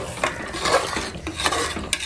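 Goat trotter curry bubbles and sizzles in hot oil in a pan, with occasional stirring clinks of a utensil against metal, fairly quiet and close.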